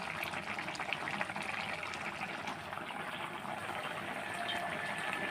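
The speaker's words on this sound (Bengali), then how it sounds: "এই যে আমার তরকারির বলক উঠে গেছে" A pot of sweet pumpkin curry at a rolling boil, a soft continuous bubbling and gurgling that stays fairly faint and even throughout, heard close with no talking.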